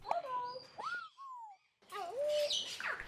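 African grey parrots give a run of whistled, chirping calls with sliding tones, loud and close, broken by a short pause before more rapid squawks and whistles.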